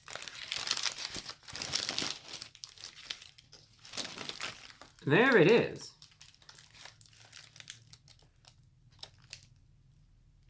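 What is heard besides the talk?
paper wrapper of a Taco Bell burrito crinkling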